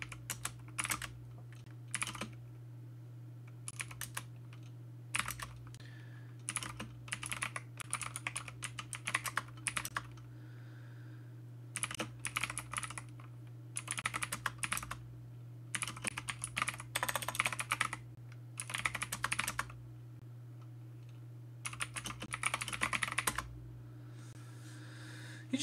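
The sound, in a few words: typing on a clicky mechanical computer keyboard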